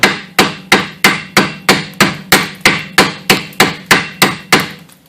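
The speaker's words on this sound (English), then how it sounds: "I'm just going to use a chipping hammer." A chipping hammer strikes corroded metal on a 1998-2003 Chevrolet Malibu rear strut assembly in an even, rapid rhythm, about a dozen sharp loud knocks in a row, each ringing briefly before the next.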